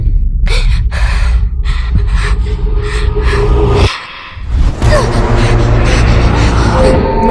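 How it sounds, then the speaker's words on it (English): Arya Stark breathing hard in the Game of Thrones season 8 trailer, repeated loud gasping breaths over a dense music and sound-effects bed, with a brief dip in the middle. "Even in the beginning of this trailer for season 8, you see Arya Stark breathing hard."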